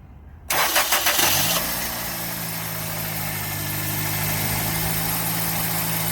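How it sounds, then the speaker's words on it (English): A 2000 Toyota Corolla with a misfire cranks briefly, catches and settles into a steady, even idle that runs on close and alone. "Time to turn the 2000 Corolla on."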